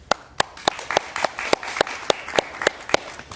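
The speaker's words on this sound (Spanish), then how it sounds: "lo recibimos con un fuerte aplauso, por favor." Studio audience of a television talk show applauding to welcome a Spanish musician guest, a dense patter of claps with sharp louder peaks recurring at a steady pulse throughout, fairly close and without talk.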